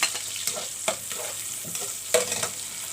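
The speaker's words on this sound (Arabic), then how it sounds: "نقلب البصل كده" Onions fry in a pan while being turned, a soft constant sizzle broken by a handful of crisp spoon scrapes and knocks at irregular intervals, close and fairly quiet.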